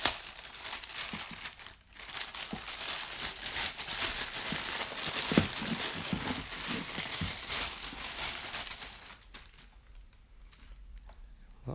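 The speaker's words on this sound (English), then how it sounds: "Unbox this." Plastic and cardboard packaging of a cheap Amazon stereo crinkles and rustles steadily while being unboxed, close and fairly continuous, easing off near the end.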